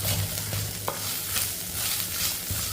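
Curry leaves and green chillies sauté in a hot pan, a steady bright sizzle with soft stirring scrapes and occasional taps of the spoon, close and continuous with no talk.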